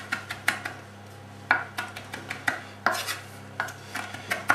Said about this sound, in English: So now what I'm going to do is I'm going to chop these leaves.